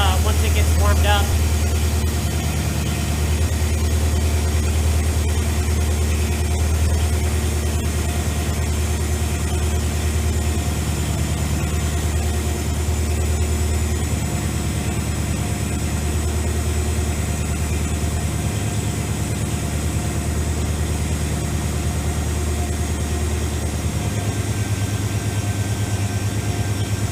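An AMC 401 V8 idles in a Jeep YJ with a steady, deep, rumbling drone close by, while someone talks over it.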